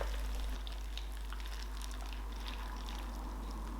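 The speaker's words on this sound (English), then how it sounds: "all we need to do is pour the just boiled brine over these" Just-boiled pickle brine poured over sliced cucumbers for BBQ pickles, a steady close pouring and splashing with faint sizzle-like hiss and no voices.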